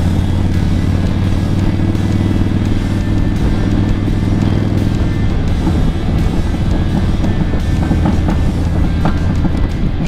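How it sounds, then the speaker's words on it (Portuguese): A Harley-Davidson Dyna motorcycle rides along a road, its engine giving a loud, constant low rumble with steady wind noise throughout, and no talking. "Vou de pé na moto."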